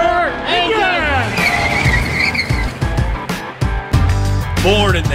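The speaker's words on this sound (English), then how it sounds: "Gentlemen, start your engines!" Race cars at an asphalt oval speedway roar and rev, sharp pitch sweeps and engine howls layered with tire squeal and a passing car, loud and close, with a voice heard over it.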